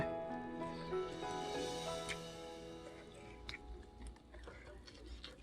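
Someone chews crispy fried mackerel up close, with quiet repeated crunching and wet mouth sounds over a faint steady hum of background tones. A soft murmur of voice is also present.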